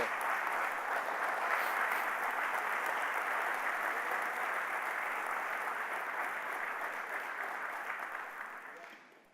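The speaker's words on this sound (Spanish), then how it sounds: "¿Por qué no hace un fuerte aplauso entonces a Jesucristo por eso?" A church congregation gives a loud, sustained round of applause during a sermon, dense even clapping that holds steady for several seconds before fading out at the end.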